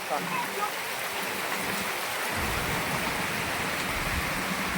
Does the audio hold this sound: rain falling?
yes